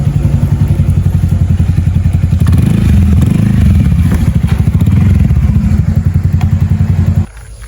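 A motorcycle being ridden close by gives off a loud, rapid engine throb with rattling and clattering. It runs steadily for about seven seconds before cutting off abruptly to a low rumble.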